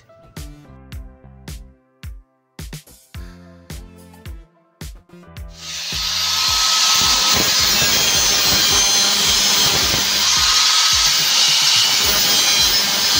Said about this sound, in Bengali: যেসব স্ক্রুগুলো বেরিয়ে আছে ওগুলোকে মেশিন দিয়ে ঘষে নিচ্ছে।